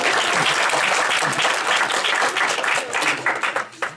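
Audience applause in an indoor gathering, loud dense clapping from many people close by, holding steady then thinning into scattered individual claps toward the end.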